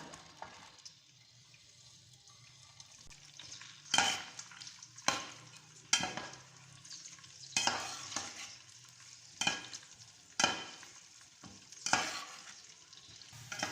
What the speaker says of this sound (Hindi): अब हम इसमें डालते हैं ड्राई फ्रूट्स, वो थोड़े से फ्राई करते हैं।